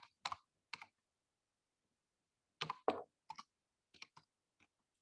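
Someone types the words "marketing mix" on a computer keyboard, with short separate bursts of close key clicks divided by a long pause, in an otherwise silent room.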